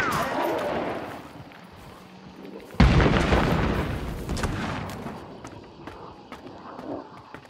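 A single loud boom as a barrel is blown up in a video game, a sharp blast with a rumbling tail, preceded by muffled game noise and voices.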